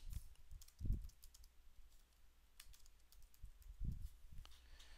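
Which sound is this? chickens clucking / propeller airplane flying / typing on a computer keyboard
typing on a computer keyboard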